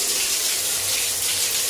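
Hotel room shower at the Bellagio in Las Vegas running steadily, a continuous hiss of spraying water close by with no voices.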